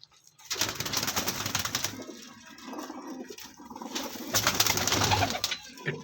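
Pigeons coo repeatedly among a flock of about twenty sturdy birds, soft throaty calls rising and falling in two fuller bursts with rustling between, fairly close and clear with no talk.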